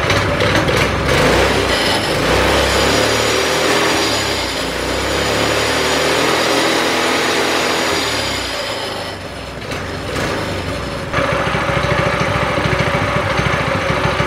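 A 212cc Predator engine on a go kart runs loud and close for a long stretch, with a steady buzzing drone. Its pitch and roughness shift slightly as it keeps running.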